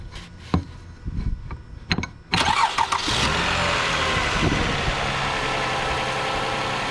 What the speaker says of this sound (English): So with a metal object, we're going to tap the starter.